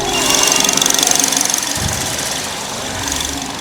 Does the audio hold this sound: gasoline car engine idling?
yes